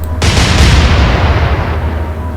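A ship's naval gun fires in the Atlantic Fleet game: one loud, close boom that swells into a long rumbling decay, with no voices over it.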